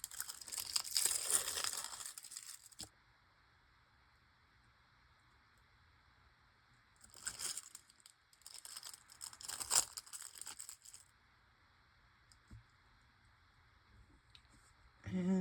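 Paper crinkles and crackles as stickers are peeled from a backing sheet and pressed onto a foiled gift tag, in close bursts separated by quiet pauses.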